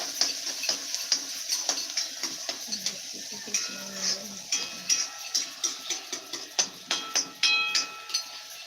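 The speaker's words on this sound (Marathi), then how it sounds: "आता कांदासुद्धा टाकलेला आहे तो व्यवस्थित असा तेलामध्ये परतून घेते" Onion being sautéed in oil in a pan over a full gas flame while Maath bhaji is cooked, with steady sizzling under repeated scraping and clinking of a spoon stirring against the pan, in a rhythmic series of close knocks.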